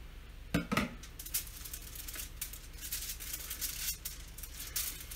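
A venison meatloaf is shifted onto a foil-covered baking sheet, giving a few sharp metallic clinks and light crinkly taps, close and quiet, with no talking.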